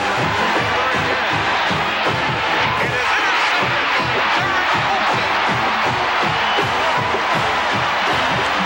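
A packed football stadium of some 65,000 West Virginia Mountaineers fans roars in a continuous, loud wall of cheering and yelling, with rhythmic chant-like pulses running through it.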